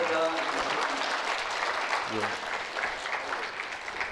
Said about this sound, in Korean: 다시 한번 큰 박수, 감사의 박수 부탁드립니다.